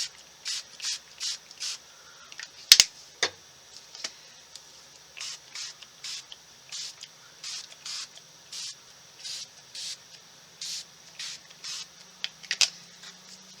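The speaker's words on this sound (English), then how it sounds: "Let's add some more blue spray" Repeated short hissing bursts of a spray bottle misting colour mist onto paper, about twenty quick spritzes in a steady rhythm, close and fairly loud, with a sharp knock early on.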